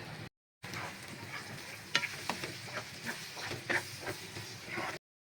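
Egg bhurji with onions frying in a pan, Indian street-food style: a steady soft sizzle with scraping stirs and light clicks of a spatula, fairly quiet, with no talking.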